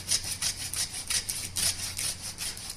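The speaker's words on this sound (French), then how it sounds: "Et je continue à scier. On scie quoi? L'os." A hand saw cuts through the bone of a veal leg (cuisseau) in a butcher's setting, giving steady rasping back-and-forth strokes in a quick regular rhythm, close and fairly quiet with no talk.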